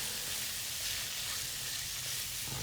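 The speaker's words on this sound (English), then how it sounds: "get the bacon all fried up" Bacon crackles and sizzles in its own rendered oil in a pan for pasta carbonara, a dense, steady hiss with fine popping, close up and without talk.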